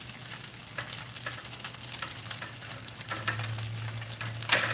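Food frying in a pan for a Jamaican breakfast of leftovers, a steady close sizzle and crackle running throughout with a low hum underneath and no talking.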